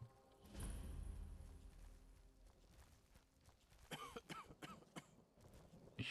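A person coughing and clearing their throat during a Skyrim Anniversary Edition survival-mode game session, a short burst of several close coughs after a stretch of muffled background noise, with no speech.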